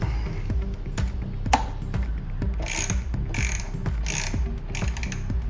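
An Allen wrench and 11mm socket ratchet tighten the bolts of a rear license plate relocation bracket on a Jeep Wrangler JL, giving steady, close rapid ratchet clicking in repeated bursts.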